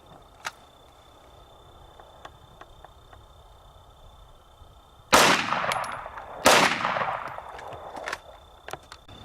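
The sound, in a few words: two 9mm rounds fired from a Glock 17 pistol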